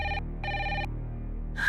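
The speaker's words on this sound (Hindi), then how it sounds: "जीजी, शायद ये रणवीर जी का ही फोन होगा।" A telephone ringing indoors, two bright electronic ring bursts separated by a short gap over a low steady hum, then a brief burst at the end, loud and close with no talking.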